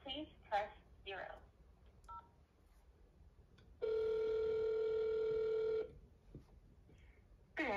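A steady telephone keypad tone holds for about two seconds while an extension is dialed during an automated phone menu. Brief voice fragments come before and after it.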